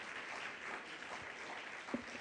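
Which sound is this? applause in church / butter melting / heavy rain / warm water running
applause in church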